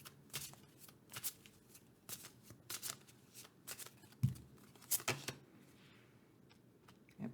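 Astro Chakra oracle cards being shuffled and handled, with repeated soft riffling and flicking bursts and papery slides close by, with no talking.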